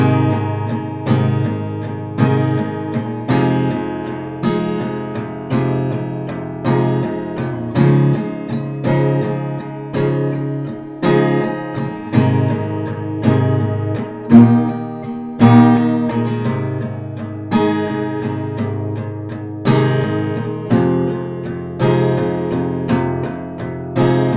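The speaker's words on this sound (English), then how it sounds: "if you want to strum it instead of pluck it, you can use the same strumming pattern as in the verse" Acoustic guitar strumming the pre-chorus of a song in steady downstrokes, chords ringing with regular accented beats, close and full for about twenty-four seconds, no voices.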